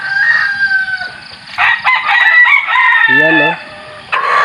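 A rooster, a mestizo fighting cock, crows once loudly and close, with clucking and other fowl noises around it and someone talking in the clip.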